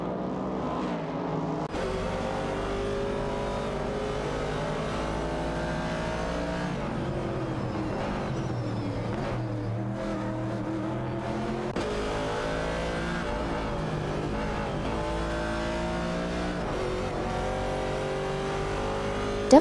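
Chevrolet Camaro race cars in an AI-driven race, a continuous loud engine drone with rising and falling revs as the cars accelerate and shift, with no voices.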